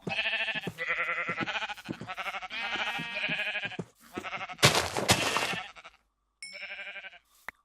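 Repeated Minecraft sheep bleats in quick succession, loud and close, with a burst of noisy crunching midway as the sheep is killed and a final short bleat after a pause.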